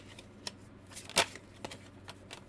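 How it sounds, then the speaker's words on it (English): Tarot cards being shuffled by hand, giving a few soft riffling bursts and light taps with one sharper flurry in the middle, close and fairly quiet over low room hum. "I'm shuffling the wrong way"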